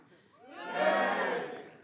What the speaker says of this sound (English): can I hear a cheer from Ephraim and co?